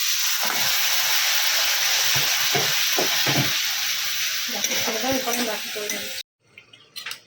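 Spice masala fries in a pan for a fish dish, giving a loud, continuous sizzle with scraping stirs. Brief vocal sounds come partway through, and near the end the sizzle suddenly drops away to near quiet.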